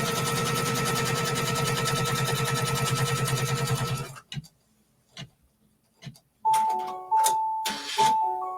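An embroidery machine stitching pieced fabric in a hoop runs as a steady, rapid mechanical whirr for several seconds, then stops, followed by a few soft clicks and a chiming electronic tone sequence.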